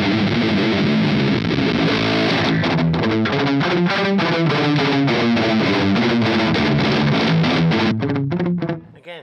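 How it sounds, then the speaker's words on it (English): Heavily distorted electric guitar through a Dophix distortion pedal plays a chugging, rhythmic riff with thick, saturated tone, fairly loud and alone until it cuts off at the end. "It sounds like model gain, like the amp distortion of some sort."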